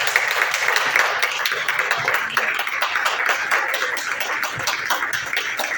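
Church congregation applauding, a dense sustained patter of many hands clapping steadily at close range, with no talk over it.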